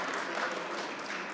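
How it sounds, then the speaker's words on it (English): Sustained applause from an audience at a gun-violence outreach announcement, a steady even roar of many hands that continues unbroken throughout. "That's worth an applause."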